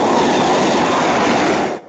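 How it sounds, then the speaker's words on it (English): Late-night trains speeding past on the Reading to Paddington rail line, a loud continuous rushing roar with rattling wheels that fades at the very end, heard alone without voices. "While the last trains of the day speed past"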